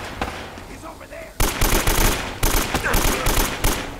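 Bursts of enemy automatic gunfire in Uncharted: Drake's Fortune, a quieter stretch followed by loud rapid volleys with short pauses, firing from above.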